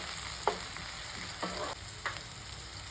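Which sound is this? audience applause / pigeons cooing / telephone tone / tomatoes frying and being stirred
tomatoes frying and being stirred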